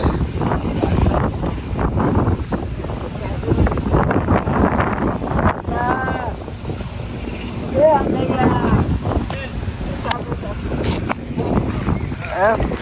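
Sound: wind

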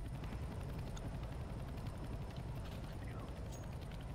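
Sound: helicopter in a video game (Danger Zone)

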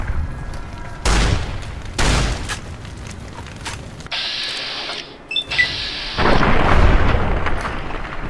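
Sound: super shotgun firing in Fallout New Vegas video game

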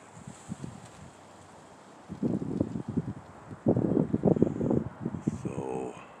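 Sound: wind blowing outdoors

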